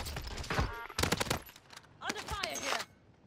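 Bursts of automatic gunfire in Call of Duty on Rebirth Island, several short volleys between stretches of someone talking.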